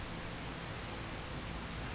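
Steady rain in the video game Skyrim, a dense even hiss of falling water that holds at a constant moderate level throughout with nothing else over it.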